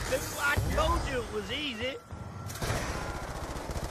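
Video game gunfire aimed at zombies, quick shots mixed with game sound effects and a warbling tone, with someone talking over much of it.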